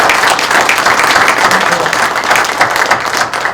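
Dense audience applause fills the room after six CEOs present at an evening event, a steady wash of many hands clapping at full volume throughout.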